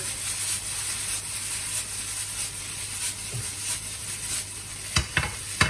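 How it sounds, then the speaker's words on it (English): Drained noodles and vegetables are stirred in a hot pan, a steady near sizzle with scraping stir strokes and a few sharper clatters toward the end, with no speech. "Noodles have been drained off, just need to add them in. Give everything a good stir around now."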